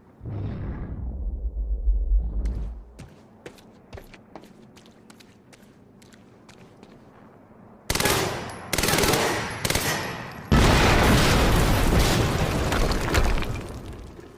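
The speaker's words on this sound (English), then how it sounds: "HQ, we just heard an explosion near the harvesting perimeter." Explosions and gunfire in the Quantum Break video game: a low rumbling blast fades, followed by scattered sharp shots and then loud, sustained bursts of heavy fire and booms in the final seconds.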